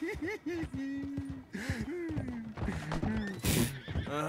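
A horse in the Western video game Red Dead Redemption 2 whinnies and neighs repeatedly over clip-clopping hooves, loud and close, with people talking over it.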